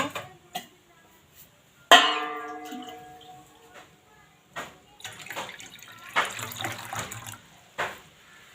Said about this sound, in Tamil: குட்டி பவுலில் கொஞ்சம் தண்ணி ஊற்றி வச்சுக்கலாம்